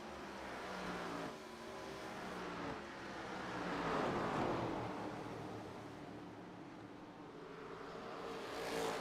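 Stock race cars racing at World Wide Technology Raceway, a faint, distant engine drone that swells and fades as cars pass, a broad steady roar with no clear voices.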